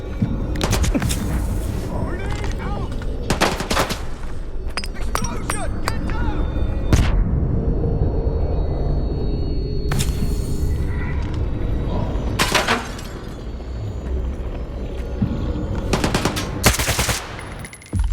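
Bursts of gunfire and heavy booming blasts from a grenade in the video game STALKER 2, with loud rapid shots repeating across the scene and voices calling out between them.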